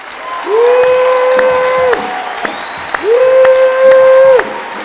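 A church congregation claps in rhythm, the sharp claps falling over two sustained musical tones that swell and stop.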